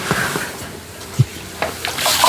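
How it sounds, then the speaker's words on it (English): Grains being stirred into hot water for a pumpkin ale mash: a soft, continuous swishing and scraping with a few brief knocks, close and fairly loud, with no talking. "Let me start mixing in my grains"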